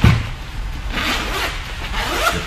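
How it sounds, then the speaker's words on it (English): Zipper on a 5.11 Rush 24 tactical backpack being pulled open in one continuous, close, rasping run, loud and alone. "Zip the bag down."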